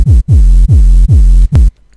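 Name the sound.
heavy sub bass with pitch automation, machine gun bass layer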